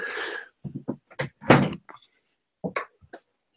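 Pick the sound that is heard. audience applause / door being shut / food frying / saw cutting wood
door being shut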